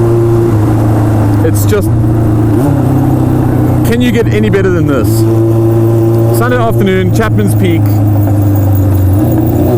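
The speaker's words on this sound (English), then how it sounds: "a motorbike that sounds like a F40 with a squeaky brake" A 1979 Honda CB550 cafe racer motorbike engine drones loudly and close throughout, with rising revs and gear-change surges, while a rider talks over it on a coastal road.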